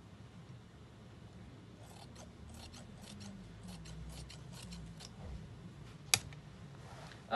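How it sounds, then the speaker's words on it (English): Scissors cut through dress fabric in a run of close, rasping snips that repeat in quick succession, quiet and steady, with one sharper click near the end and no talking. "I'm just going to cut it open."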